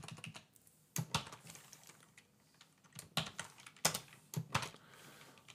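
Typing on a computer keyboard, with quiet irregular clusters of key clicks and brief pauses between bursts.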